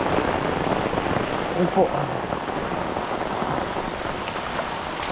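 Steady rain falls around a person walking outdoors in a rural Philippine cornfield area during the rainy season, a dense continuous patter; a brief spoken voice comes through partway.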